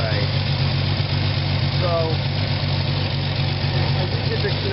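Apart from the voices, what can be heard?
1979 Ford F-100 truck engine idling with exhaust leak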